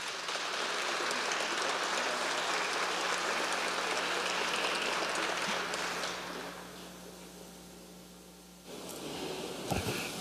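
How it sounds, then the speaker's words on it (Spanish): A crowd at a memorial tribute applauds in a steady, fairly distant patter that carries on for several seconds, then thins and drops away before a brief louder burst of sound at the end. "Un aplauso, por favor."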